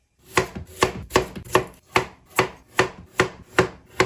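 A knife chops carrots into flat pieces on a cutting board in a steady run of about nine crisp, evenly spaced thuds, close and distinct with no voices.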